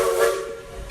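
A steam train lets out a shrill, sustained whistle over a broad, loud hiss of escaping steam, heard close and alone for about a second.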